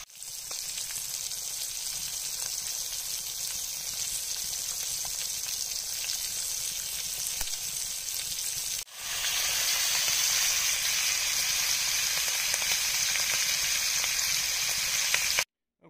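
A pot roast sears in a cast-iron Dutch oven over an open wood fire, giving a steady, loud sizzle and hiss that runs throughout, briefly dipping midway before resuming a little louder, with no talking.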